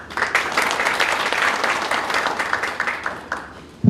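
Audience applause at a mayoral candidates' policy presentation fills the whole stretch, a dense, even roar of many hands clapping that tapers slightly at the end.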